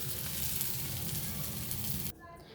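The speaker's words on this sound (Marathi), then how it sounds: "लालसर होईस्तोपर्यंत भाजून काढायचं." Pieces frying in a pan until reddish give a steady, close sizzle with a dense crackle. It runs unbroken for about two seconds, then drops suddenly to a quieter hiss.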